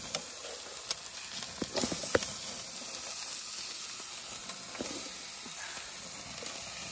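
Food sizzles steadily on a cabin barbecue grill in the fall, a continuous loud hiss with scattered pops and crackles and no talking.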